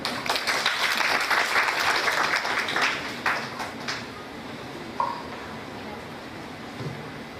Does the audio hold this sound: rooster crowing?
no